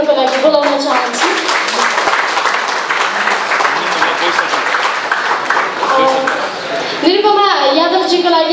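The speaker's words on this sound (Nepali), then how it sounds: "निरुपमा यादवजीको लागि हामी यहाँ फेरि पनि ताली बजाउँ" An audience claps for Nirupama Yadav, a deputy mayor candidate, at a Vijaya Dashami interaction event. Dense, sustained applause runs throughout, and a voice speaks near the end.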